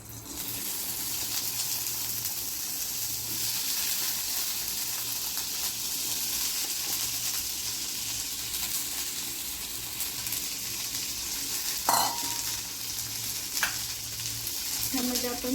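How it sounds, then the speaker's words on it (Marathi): Cluster beans (guar) sauté in hot oil in a wok, giving a steady, close hiss and crackle that runs the whole time, with a few sharper stirring clatters near the end. "आता त्याच्यात आपण गवार परतून घेणार आहोत आपली."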